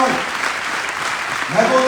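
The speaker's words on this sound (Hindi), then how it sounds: "हमारे महागुरु मिस्टर शिव कुमार सर के लिए जोरदार तालियां बजाओ।" Audience applause at a direct-selling event in Prayagraj, a loud, dense wash of clapping with a voice faintly under it near the end.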